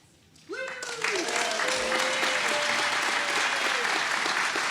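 Loud, sustained applause from a crowd at a holiday gala awards night swells in after a brief quiet moment and continues steadily, with a voice speaking at the start.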